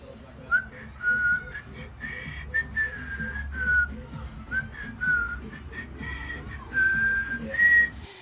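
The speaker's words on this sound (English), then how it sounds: "send us your video clips mimicking the Whistling Chef tune for an entry into the Whistling Chef competition" A person whistles a tune with short and held notes in a bouncy rhythm, close and clear over a low background murmur.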